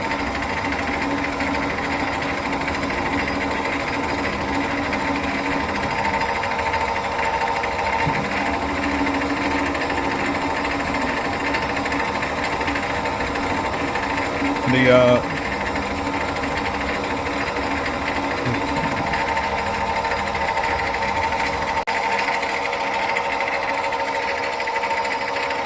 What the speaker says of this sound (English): Okay, we're doing a center drill operation.